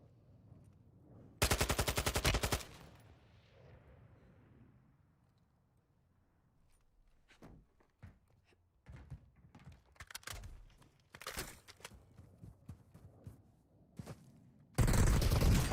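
Video game gunfire comes in a loud burst of rapid shots near the start, then scattered single shots and short pops, and ends in another loud sustained volley.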